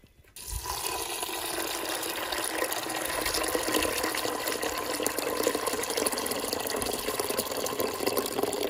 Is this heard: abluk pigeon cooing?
no